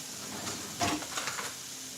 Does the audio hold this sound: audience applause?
no